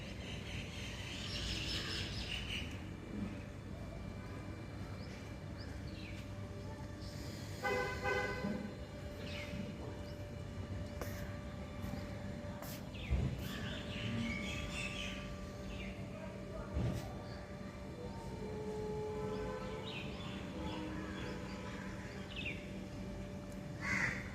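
A parrot calling outdoors on a cold morning: repeated harsh, cawing squawks come in bursts over a low background hum, with occasional other sharp calls and distant noises.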